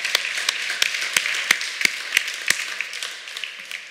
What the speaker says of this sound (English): We might want to just give him a round of applause.